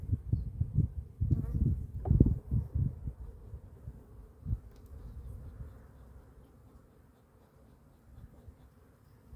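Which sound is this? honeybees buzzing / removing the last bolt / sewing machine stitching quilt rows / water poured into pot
honeybees buzzing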